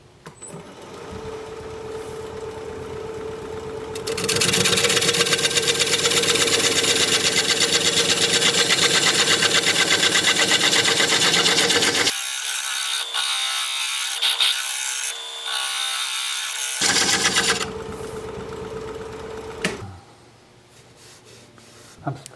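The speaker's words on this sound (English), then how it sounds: "I'm surprised how smooth that carbide's cutting." Carbide tool cutting a large ponderosa pine blank on a wood lathe: a loud, steady broadband scraping roar that drops out briefly, then resumes before fading to the motor's hum.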